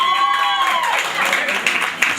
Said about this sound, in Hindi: बहुत जोरदार तालियां आयशा के लिए